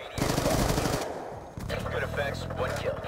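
Rapid bursts of gunfire from a friendly stealth chopper in Call of Duty Black Ops II, loud sustained automatic fire with a brief break before further firing and explosion-like rumble under faint radio chatter.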